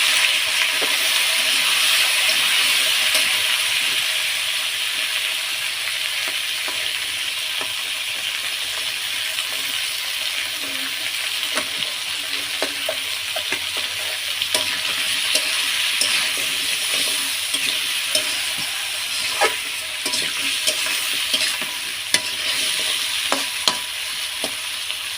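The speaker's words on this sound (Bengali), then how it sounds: "দিয়ে দিব আমি একটু জিরে বাটা, হলুদ, লবণ এবং পরিমাণ মতো একটু জল, যেটা দিয়ে সুন্দরভাবে এটাকে কষিয়ে নিতে হবে।" Potatoes and pointed gourd fry in a pan with cumin paste, turmeric, salt and a splash of water, a steady close sizzle broken by scattered clicks and scrapes of stirring, continuous throughout with no voices.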